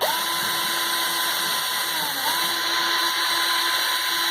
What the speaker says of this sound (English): and then you use the drill